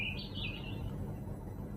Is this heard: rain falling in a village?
no